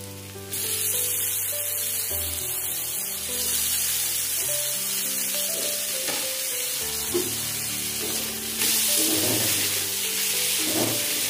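Chopped tomato stirred into mutton curry frying in a pan, a steady close sizzle with scraping stir strokes over a continuous background of soft music.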